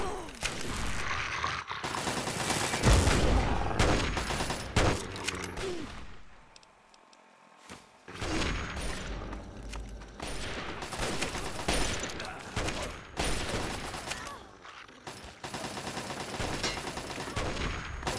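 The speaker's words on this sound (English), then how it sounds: "Don't stop shooting." Sustained gunfire in the Fallout 3 Capital Wasteland, dense overlapping bursts of shots and automatic fire that drop briefly to near silence mid-way, then resume loud and continuous.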